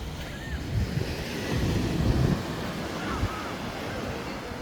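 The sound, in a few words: ocean waves on the beach, Gran Canaria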